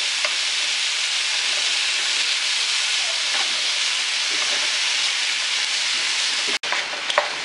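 Ground meat sizzles steadily in a hot pan while being cooked for stuffed aubergines, a constant close frying hiss with faint stirring scrapes and one brief break near the end.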